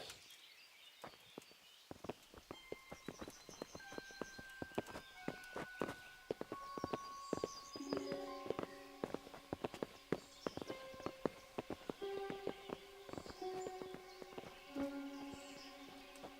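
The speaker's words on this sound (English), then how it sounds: "Bring the horses." Horses' hooves clop in a medieval video game, Kingdom Come: Deliverance, as a steady run of close, rhythmic hoofbeats under a soft musical score, with no talk.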